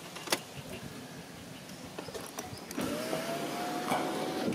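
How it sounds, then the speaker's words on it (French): The driver's-side electric window motor of an Audi A3 whirs steadily for a couple of seconds after a few faint clicks and knocks, close and fairly quiet in a parked car. "Là maintenant on va faire un essai de la vitre, hein, tout simplement."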